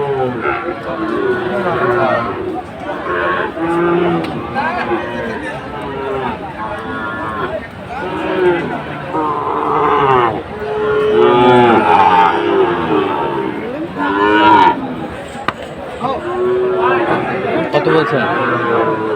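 Sahiwal bulls and calves at a livestock market in Comilla let out drawn-out lows among constant crowd chatter, with people talking close by throughout.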